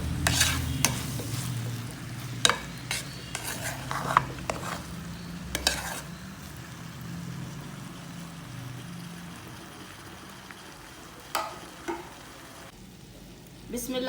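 Chinese rice with soy sauce and black pepper stirred and fried in a pan: a soft background sizzle broken by sharp, irregular spatula clanks and scrapes against the metal, heard up close.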